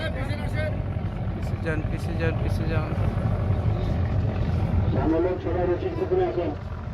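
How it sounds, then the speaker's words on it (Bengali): Passenger river launch engine droning steadily as the boat sets off for Dhaka, a constant low rumble throughout with people talking over it and a raised voice near the end. "আমাদের লঞ্চ ছেড়ে দিয়েছে ঢাকার উদ্দেশ্যে"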